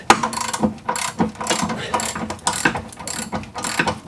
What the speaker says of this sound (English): Put a ratchet on the outside, reach up through this small hole in the frame to get to the nut on this side. Break it loose.